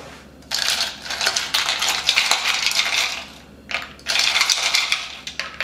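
Small cucumber cubes tumble into a water jar in quick clattering bursts, two clusters of close, bright knocks and rattles with a short pause between, no voices.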